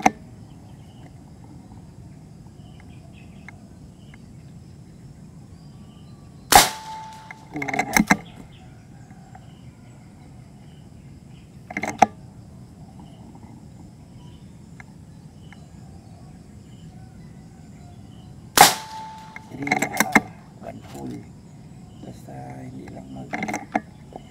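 An NB-013 air rifle fires JSB 18.13g pellets at a 100-yard outdoor range: two sharp, loud cracks about twelve seconds apart, each followed by quieter mechanical clicks, over a faint background.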